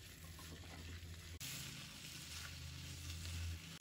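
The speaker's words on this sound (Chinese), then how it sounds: "接下来倒入青红椒，翻炒均匀" Chicken wings stir-fried with green and red peppers sizzle steadily in a hot pan, a continuous crackling hiss with a brief pause as the food is tossed, heard close up without talk.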